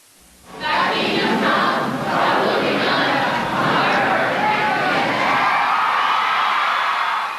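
A crowd of about 3,000 people rises and cheers in a small school gymnasium, loud whoops and yells swelling suddenly from quiet and holding as a steady roar.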